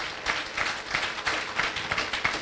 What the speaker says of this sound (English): Can I just borrow your claps again for the ladies sections who have put up all their efforts?